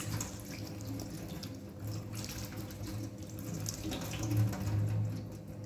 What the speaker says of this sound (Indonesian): telapak tangan, ujung kuku, ibu jari, dan kita bilas.